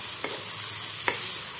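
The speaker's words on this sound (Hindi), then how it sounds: "डालिए मैंने प्याज, हरी मिर्ची और इसे भी हम फ्राई कर लेते हैं" Onion and green chili frying in a pan for chana dal, a steady close hiss of sizzling oil with two brief stirring scrapes, no voices.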